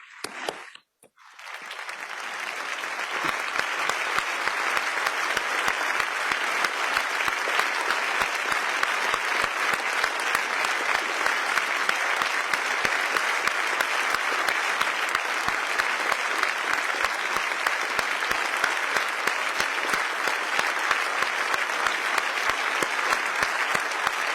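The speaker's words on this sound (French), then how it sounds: "que nous nous levions et applaudissions afin de rendre hommage au courage du peuple ukrainien" Members of parliament rise and applaud together in a large assembly chamber in honour of the Ukrainian people. Loud, sustained, dense clapping starts after a brief near-silent moment and holds steady through to the end.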